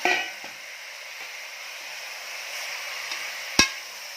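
Kolhapuri mutton with turmeric sizzles steadily in a hot pan while being stirred, with a few soft scrapes and one sharp clink of utensil on metal, close by and without speech.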